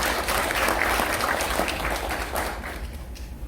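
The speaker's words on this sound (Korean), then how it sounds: "큰 박수로 부탁드립니다" An audience applauds at a lecture, giving dense, sustained clapping that swells and then begins to thin out toward the end.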